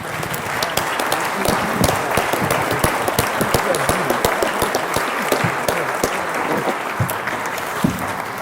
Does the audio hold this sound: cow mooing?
no